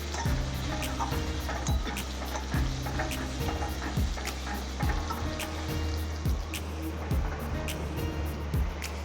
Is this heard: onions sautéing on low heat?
yes